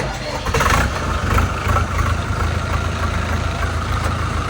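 A Euro Feng 554 tractor's engine turns over and settles into a steady, fairly loud low idle that runs throughout, with a brief rise near the start. Voices speak faintly in the background.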